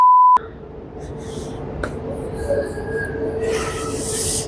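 A model APT-E high-speed train runs on a layout at a model railway festival in a railway museum, giving a steady rolling rumble after a short electronic beep, with a hissy rush building toward the end.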